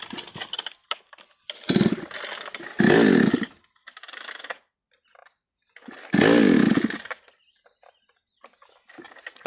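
A chainsaw with its chain tightened is pull-started several times, sputtering in short loud revving bursts separated by pauses of near silence and faint background noise.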